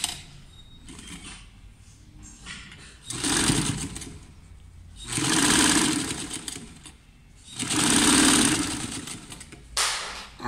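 A sewing machine stitches the facing of a jacket with a collar, shirt-style cuffs and a zipper, running in three strong bursts of several seconds each with quieter pauses between, close and loud.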